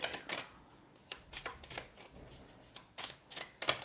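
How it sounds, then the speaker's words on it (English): Tarot cards shuffled over a table, giving a series of short crisp riffling bursts with brief pauses between them, close and fairly quiet. "I think maybe if I shuffle over the table, I won't lose them as much."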